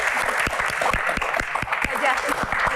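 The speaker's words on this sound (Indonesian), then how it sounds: "Dari hati, tepuk tangan dong." An audience at a Q&A event claps in a moderate burst under a voice talking, with sharp individual hand claps standing out from the wash of applause.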